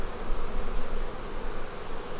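Honey bees buzz on a hive frame at a struggling army bee barn, a dense, continuous hum heard up close with no voices.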